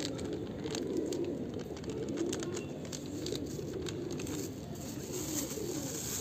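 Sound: pigeons cooing

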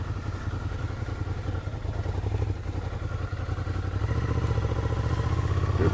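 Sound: motorcycle riding through dirt

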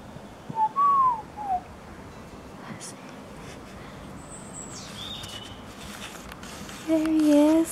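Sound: owl calling in manor gardens

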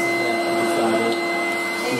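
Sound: vacuum cleaner hoovering

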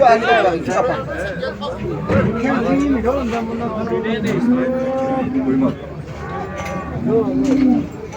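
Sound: cattle mooing at a livestock market

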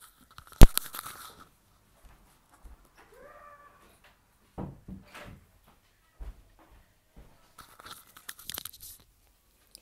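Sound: door being shut

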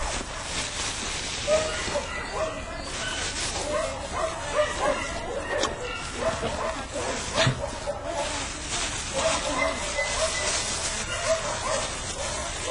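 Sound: dogs barking and whimpering at a shelter

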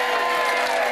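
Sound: studio audience applause

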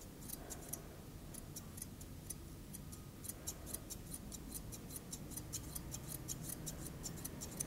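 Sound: thinning scissors cutting dog hair

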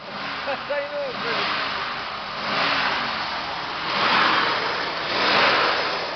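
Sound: Ford Galaxie V8 292 engine running

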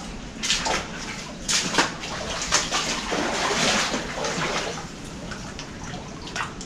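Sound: water dripping and flowing inside a lead and copper mine

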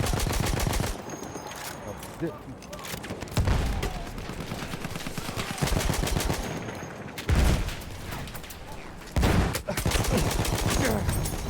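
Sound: machine gun fire in Battlefield 1, video game

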